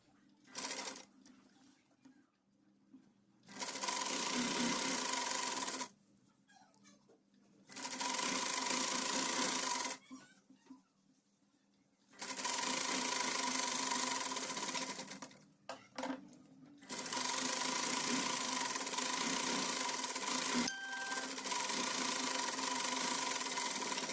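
A sewing machine stitches a salwar panel with a half-inch seam in several bursts of steady whirring, separated by quiet pauses, recorded up close.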